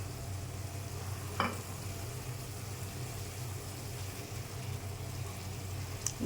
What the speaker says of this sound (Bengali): এই যে মশলাটা ভাজা হয়ে গেছে তেল ছেড়ে গেছে